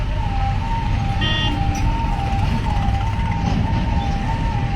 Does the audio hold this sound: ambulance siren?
yes